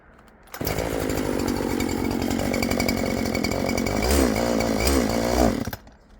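A small engine roars steadily at close range, with the throttle blipped into louder surging revs near the end before it cuts out; no talk.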